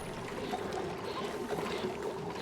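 Water steadily pouring into a tank in the Full Steam Ahead game, a continuous rushing, trickling wash at moderate loudness with no pauses.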